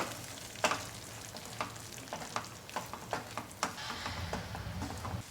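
Gravy with cashew and melon seed powder and kitchen king masala fries gently in a pan, a soft steady sizzle broken by repeated light taps and scrapes of a stirring spoon, quiet and close, with no talking.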